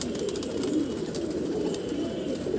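A young pigeon with a possible throat problem and an air-swollen crop, its soft cooing and calls close and steady against a dense background, no talk.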